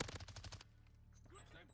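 Rapid burst of automatic MX9 submachine gun fire in Modern Warfare 2, about a half-second string of close, loud shots followed by quieter game ambience and faint chatter.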